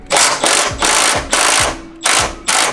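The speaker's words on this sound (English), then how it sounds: "Two bolts up top, both being 14mm. We're gonna take this, slowly break it loose on one." Ratchet wrench slowly breaking loose a 14mm top bolt on a coilover mount of a first-generation NA Mazda Miata: six loud, close ratcheting strokes in steady rhythm, each a burst of rapid clicks with short gaps between.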